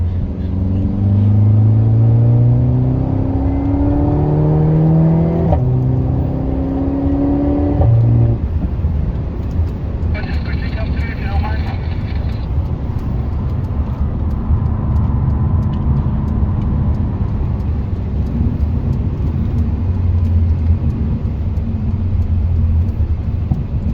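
A stock road car with road tires runs its engine at the Kyalami Festival of Motoring. The loud, continuous rumble rises and falls through revs, with shifting pitched whines over a steady low drone.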